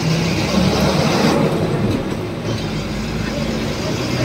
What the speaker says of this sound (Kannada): Layland bus, Ashok Layland. Engine sound ಗೊತ್ತಲ್ವ ಹೆಂಗಿರುತ್ತೆ ಅಂತ.